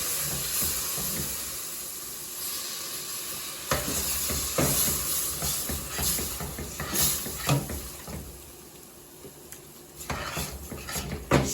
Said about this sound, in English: We're going to add the flour to the pot, mix it well, to kind of coat the veggies.